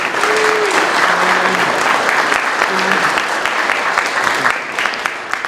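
A crowd at a mayor's press conference breaks into steady, dense applause for the honorary mayor for the day, loud and continuous throughout, with a few faint voices calling out underneath.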